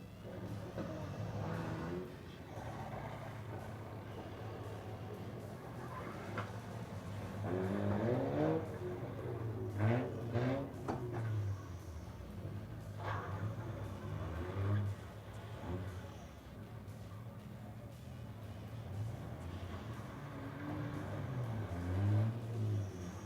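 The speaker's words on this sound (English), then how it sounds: "And Steve Long's car is still under power, the 27 machine, but no longer able to roll" Several race cars grind and rev through a demolition derby at the Motordrome Speedway Crash-A-Rama, with the 27 car still running after a crash. Engines surge and fall over a continuous rumble with occasional thuds, mid-distance, fairly steady throughout.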